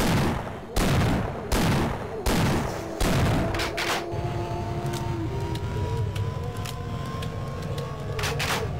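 Shotgun blasts ring out in Half-Life on the PlayStation 2: several loud, punchy booms at uneven intervals, each trailing into rumble, followed by quieter sustained electronic tones and game noise.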